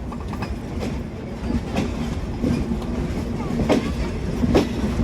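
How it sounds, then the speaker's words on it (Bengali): The Rupsha Express in Bangladesh pulling away from Darshana Halt station, heard from onboard, steady rumble with rhythmic clickety-clack of wheels over rail joints, gradually building. "নির্ধারিত দুই মিনিটের হল্ট শেষ করে এখন চলতে শুরু করলাম"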